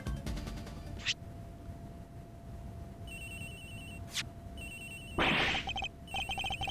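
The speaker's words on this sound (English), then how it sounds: "Agent Hicks's phone! It's ringing from somewhere, sir!" A phone rings somewhere in an Ace Attorney Investigations courtroom-style mystery game, during the Turnabout Airlines case: short electronic ringing bursts repeat in a steady pattern over a low hum, alongside other brief game effects.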